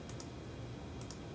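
Computer keyboard typing during microscope imaging software work: two pairs of quick, faint key clicks, one near the start and one near the end, over a steady low room hum.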